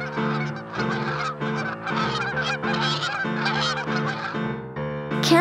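Canada geese honk loudly and repeatedly in a steady, overlapping chorus of nasal calls, close by and continuous throughout with no talking.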